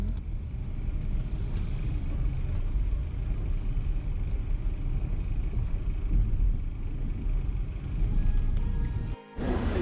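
A car travels along a road in Vietnam on the drive toward the Cu Chi Tunnels near Ho Chi Minh City, heard from inside as a steady, loud engine and road rumble with a brief dip near the end.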